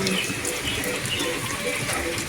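Water pours and splashes steadily during an outdoor bath in the rain on a hot day, a dense, loud, continuous gush with no pauses.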